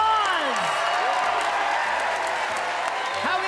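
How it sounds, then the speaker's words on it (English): Audience applause and whoops fill a talent show stage on America's Got Talent during a mentalism act, a steady loud wash of clapping and cheering with voices mixed in. "Give Howie a big round of applause."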